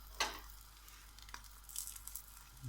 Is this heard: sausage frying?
yes